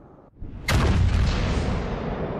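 A single heavy shotgun blast in a video game, a sharp loud boom after a brief quiet moment, with a long rumbling tail that lingers and slowly fades.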